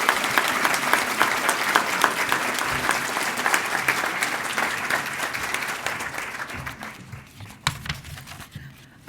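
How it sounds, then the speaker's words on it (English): An audience at the 2012 Innovators awards ceremony claps for an honoree, a dense, sustained round of applause that holds steady for several seconds, then thins out and tapers toward scattered claps. "Let's give her a big round of applause."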